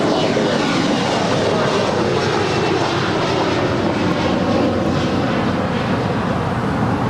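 An airliner takes off from runway 25 left at Los Angeles International Airport with a loud, steady engine roar that holds at full power throughout, broad and rumbling and close.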